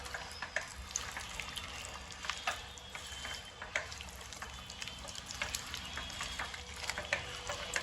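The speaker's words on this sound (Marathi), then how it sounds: "अशी छान परतून घ्यायची भाजी" Pav bhaji vegetables sautéing in a home kitchen pan, a faint steady sizzle broken by scattered scraping and stirring ticks, quiet and close, with no talking.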